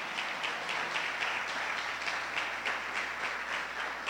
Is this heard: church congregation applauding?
yes